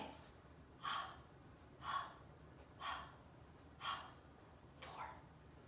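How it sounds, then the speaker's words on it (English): During an intermediate mat Pilates exercise, a person takes five evenly spaced short, sharp breaths about a second apart, close and fairly soft, with a quiet background between them. "push down into the hand, flex the foot, and little, short breaths."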